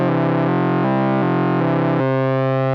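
A Moog semi-modular synthesizer stepped by a Korg SQ-1 sequencer plays two-note duophonic lines, with steady distorted sustained tones stepping through a few pitch changes in quick succession.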